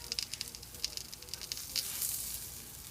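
Veggie fritters sizzle and crackle steadily in a hot pan, a close, continuous hiss dotted with sharp spitting pops, with no talking.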